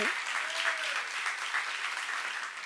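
A church congregation claps during a Korean sermon, a short, even burst of crowd applause at a steady level, with a brief tonal sound near the start.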